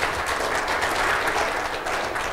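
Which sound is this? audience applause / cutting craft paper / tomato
audience applause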